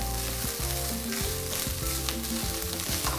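Tomato puree, vegetables and minced meat for spaghetti bolognese sizzle loudly and steadily in a hot pan, a dense frying hiss over a low tonal backing that sounds like faint music, with no voices.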